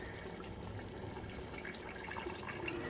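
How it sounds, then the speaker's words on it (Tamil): Boiled basmati rice drained of its water for Ambur mutton biryani, a steady close rush of pouring water splashing without a break. "இப்போ அரிசியை வடிச்சிட வேண்டியது தான்."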